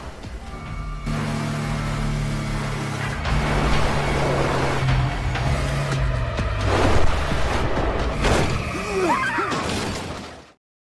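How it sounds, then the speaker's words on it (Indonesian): A car is struck and rolls over, a steady engine drone giving way to a series of heavy crashing and tumbling impacts that continue for several seconds before cutting to silence. "Sialnya mobil mereka terguling, setelah ditabrak oleh Thomas."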